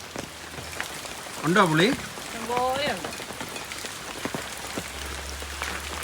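Steady rain falls outdoors on a rural plot where Malabar tamarind (cambogia) fruits drop to the ground, a soft continuous patter running under brief talk from a nearby voice.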